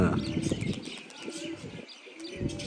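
Pigeons coo and flap their wings as young birds are let go from a loft, with soft bursts of wingbeats and calls close by and some talking mixed in.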